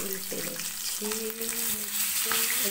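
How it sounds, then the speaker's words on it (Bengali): Fish fries in hot oil in a wok, crackling and sizzling close up with a few scraping stirs and brief squeaky tonal sounds over the constant spatter. "তেল দিয়ে দিয়েছি কড়াইতে মাছটা ভাজা করে নিই"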